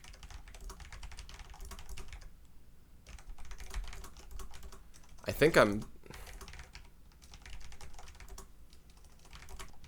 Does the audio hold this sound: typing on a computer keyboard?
yes